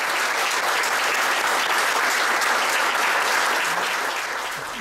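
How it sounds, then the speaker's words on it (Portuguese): Crowd applause fills a capoeira school's inauguration, a dense steady wash of many hands clapping at full strength before tapering slightly at the end, with no talk over it. "uma salva de palmas para ele."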